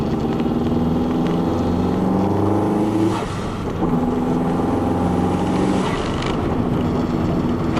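A 2007 Subaru STI with a manual gearbox drones steadily from the cabin, its engine note dipping briefly around a gear change and then rising again as the car pulls away, with wind rush throughout.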